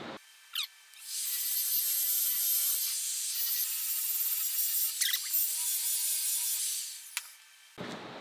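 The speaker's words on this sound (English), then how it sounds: "This is using 120 grit Scotch-Brite, and basically we're just gonna brush this so it has a uniform striated line in it." A 120 grit Scotch-Brite surface conditioning tool brushing metal on a large marquee sign gives a loud, steady, hissy abrasive whoosh lasting several seconds, with a few brief tool clicks before and after.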